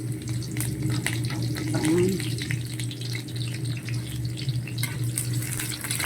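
Onion goes into ginger frying in a pan for a Filipino tinumis dish. A steady, moderate sizzle with stirring clicks runs under a low background hum, and a brief rising squeak stands out near the middle.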